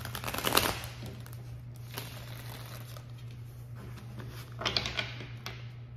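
Short bursts of riffling card shuffles at the start and again near the end, with a steady low hum underneath and no talking.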